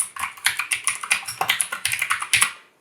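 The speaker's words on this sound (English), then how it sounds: "click on my type tool, click in the program monitor and begin to type" Fast typing on a computer keyboard, a dense run of crisp, close key clicks at an even rapid rhythm, tapering off at the end, with no voices.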